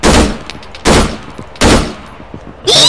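Four heavy bursts of gunfire in the video game Arma 3 come at roughly even intervals, loud and close, each a sharp explosive blast with a quick fade.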